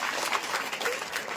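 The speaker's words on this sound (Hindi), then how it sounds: "तालियां बजा दीजिए।" A seated audience at a spiritual gathering bursts into brief, dense applause, many hands clapping together at a steady level for a moment.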